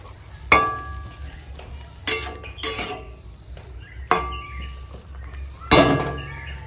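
A spoon scrapes and knocks against a pot while prawns and bottle gourd greens are mixed with ground spices, five sharp metallic clanks spaced a second or so apart over a soft background hum.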